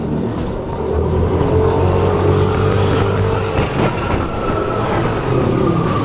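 A Metro Jabar Trans bus drives along a road in Bandung toward Kota Baru Parahyangan, heard from a following vehicle as a loud, steady engine-and-road rumble with a faint rising whine and no talking.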